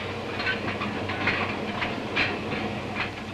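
Mail train running on rails, a continuous broadband rumble and rattle with faint rhythmic clatter, steady and moderately close, no voices.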